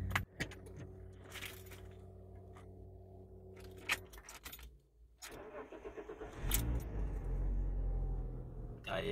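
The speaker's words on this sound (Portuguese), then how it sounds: "Vamos dar partida na mareona" A Fiat Marea 2.0 20v turbo five-cylinder cranks and fires up after some faint rattling and clicks, settling into a steady, fairly loud idle rumble heard from close by.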